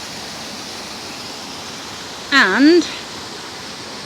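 Water pouring over a full canal lock like a waterfall, a steady broadband rush throughout, briefly interrupted by a short spoken word.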